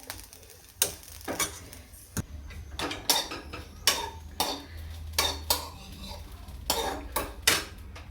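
Roasted cluster beans are scraped out of an iron kadhai onto a plate, producing a close series of metallic scrapes, clinks and taps in uneven bursts.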